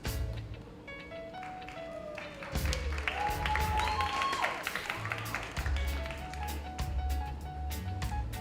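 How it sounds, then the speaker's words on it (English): An audience at a performing arts awards ceremony claps with sustained, moderately loud applause, a dense patter of hands with a few sharper claps, under a faint voice and some background tones. "Keep that applause going"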